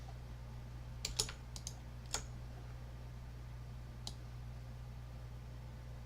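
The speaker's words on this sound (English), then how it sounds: "by left clicking and dragging." A computer mouse clicks a handful of times at a desk while a user drags bones in animation software, sparse sharp taps with long quiet gaps over a low steady hum, faint and close.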